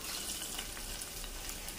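Pepper and cumin tempering sizzles in hot oil for a Ven Pongal dish, a dense, steady crackling hiss heard close and fairly loud throughout, with no voices.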